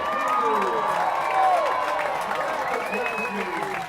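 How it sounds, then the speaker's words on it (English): A football crowd at a Campolindo at Las Lomas high school game cheers and roars steadily, a dense wash of voices with scattered applause and shouts running throughout, with no clear break. "Boy, the crowd really likes it, getting fired up."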